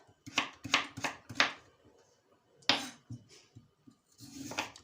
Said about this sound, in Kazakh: Мінекей сәбізімізді осылай турап аламыз.